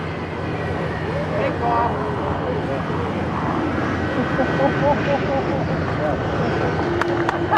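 A Boeing 777 on a high-speed taxi gives a steady broad jet engine roar throughout, fairly loud and continuous, with faint tonal whine on top and a few clicks near the end.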